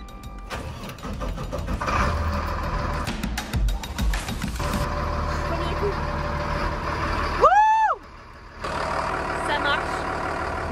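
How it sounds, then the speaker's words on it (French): A school bus, previously dead after its batteries failed, cranks and starts, its engine running loud and steady with rumbling mechanical noise; a short rising whine or beep cuts in briefly before the engine settles back to idle, with people talking over it. "on va voir maintenant si le bus démarre"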